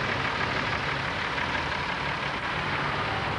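Old vehicles in a travellers' convoy idle nearby, their engines giving a steady, loud, unbroken rumble without talk.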